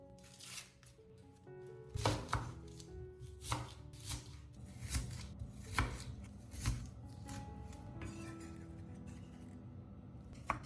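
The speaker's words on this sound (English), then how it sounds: "For the onion, peel off the skin and slice thinly into small pieces." Knife chopping onion into thin small pieces on a cutting board, a steady series of crisp close taps with uneven rhythm, some louder strikes, no talking.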